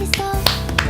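Crisp finger snaps in a played music track from an album, three sharp snaps in an even rhythm over sustained instrumental tones.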